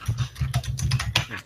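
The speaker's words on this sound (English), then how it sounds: "I'm going to finish typing it." Quick, fairly close clatter of keys on a computer keyboard, a run of light irregular taps over a second and a half, with no voices.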